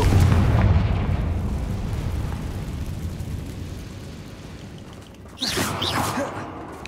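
Explosive spell blasts in the Hogwarts Legacy video game, a loud booming burst at the start that fades into a rumbling tail, then a second sharp blast near the end.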